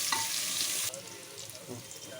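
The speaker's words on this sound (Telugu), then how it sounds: "ఒక 5 మినిట్స్ బాగా ఫ్రై అవనివ్వాలి" Onions and green chillies fry for chicken biryani with a loud, steady sizzle that drops sharply about halfway, as if stirred, leaving a quieter crackle with occasional scrapes.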